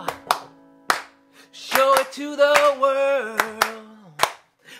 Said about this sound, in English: Clap it out.